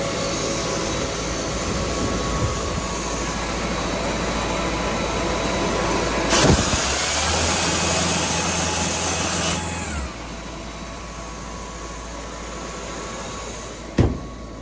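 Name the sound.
2005 Ingersoll-Rand Air Source Plus compressor running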